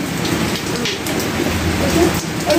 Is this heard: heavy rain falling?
yes